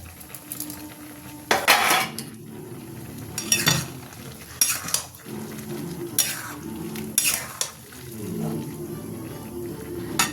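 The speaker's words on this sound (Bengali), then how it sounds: "পনিরটা এবার দিয়ে দেবো এর সাথে" Paneer goes into a pan of cooked cauliflower and potato vegetables, with a few loud clattering spatula knocks and scrapes against the metal pan over a low sizzle, in bursts with quieter gaps.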